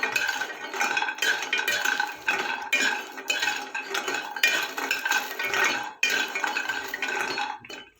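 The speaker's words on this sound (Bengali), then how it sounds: "বড়িটাকে ভেজে নিই।" A spoon stirs and scrapes lentil dumplings (bori) frying in a pan for a winter mixed-vegetable curry, giving busy metallic scraping and clinking in irregular bursts, close and fairly loud.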